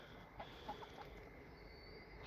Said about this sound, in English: Happy hens there wanting food again.